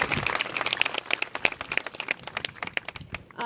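Audience at a Little League region opening ceremony clapping, a steady patter of many hands with sharp individual claps standing out, fairly close and continuous for a few seconds.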